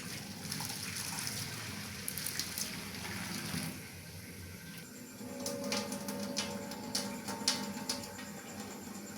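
Water drains off boiled soaked lentils in a kitchen, a steady pouring gush that thins and trickles partway through, then picks up again with light splashing and faint clinks.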